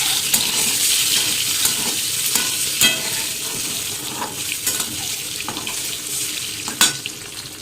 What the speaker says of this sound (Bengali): ডিমগুলোকে ভেজে নিচ্ছি আমি।